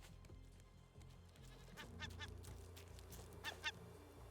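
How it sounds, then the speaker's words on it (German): Birds in the video game Raft squawk and honk in short bursts over a steady, dense in-game background, faint and far off. "diese Vögel."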